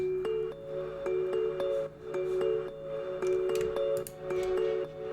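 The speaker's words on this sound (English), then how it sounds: "Then some more bells, I think." Bright synthesized bell tones ring out in a steady repeating pattern over a sustained tone, clear and evenly paced with no voices.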